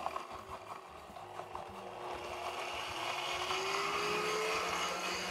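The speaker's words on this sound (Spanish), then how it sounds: "Vamos a licuar. Yo te la enciendo y ya después es toda tuya. Porque esto es una licuadora magnética." A magnetic kitchen blender whirs steadily while blending a cilantro sauce with oil, its motor hum rising and holding near and loud after a rougher start.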